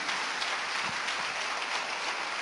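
A church congregation claps for the Lord: a dense, continuous wash of many hands clapping together, steady and even throughout.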